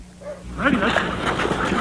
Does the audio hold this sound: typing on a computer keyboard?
no